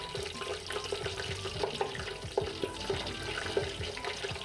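Cardamom and cinnamon frying in hot oil for biryani, heard as a bubbling, crackling sizzle mixed with clinks and scraping of stirring, steady and close.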